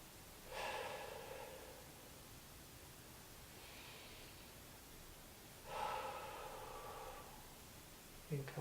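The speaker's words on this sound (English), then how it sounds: "take a few deep breaths" Two slow, deep breaths taken during a foam roller thoracic stretch for low back pain, each a soft airy rush of a second or so, separated by a long quiet pause, close and faint with no talking.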